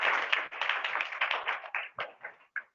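A group of children clapping together in a village classroom, a dense run of hand claps that thins into a few separate, spaced claps at the end, fairly close and with no talking.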